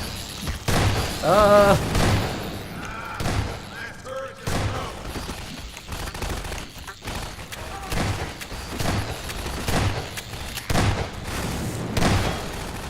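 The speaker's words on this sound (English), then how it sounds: "Yeah, I can hear them blowing up in the background." Turrets blow themselves up in Half-Life 2: Episode Two, scattered booms and fusillade-like pops recurring through the scene, partly under someone talking.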